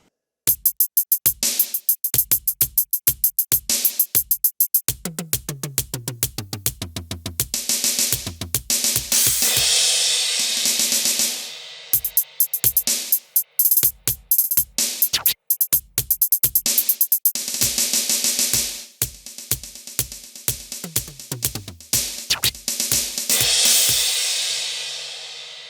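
Ludwig Total Percussion Pad electronic drum kit on kit 19, Machine, playing a busy pattern of sharp synthetic hits, snappy percussion and occasional tonal sweeps and noise bursts, fairly quiet overall.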